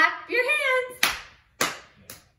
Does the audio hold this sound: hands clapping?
yes